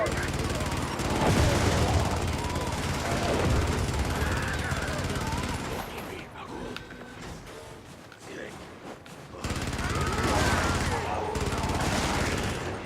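Automated turret firing machine-gun bursts in a video game, rapid rattling fusillades that are loud at first, thin out into scattered distant shots and then return strongly.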